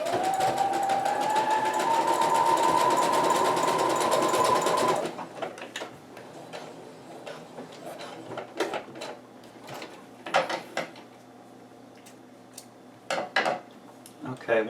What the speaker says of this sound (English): you're stitching through the elastic and both layers of spandex